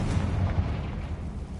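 Confringo fire spell in Hogwarts Legacy bursting with a deep, rumbling boom that rolls on briefly and then fades, loud and close.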